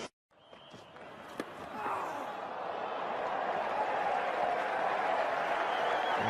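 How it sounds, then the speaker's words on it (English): A cricket crowd in a stadium applauds an injured batter as he walks off the field, a broad wash of clapping and crowd noise that swells after a quiet start and holds steady. "Huge round of applause for him as he walks off, and fairly rightly so as well."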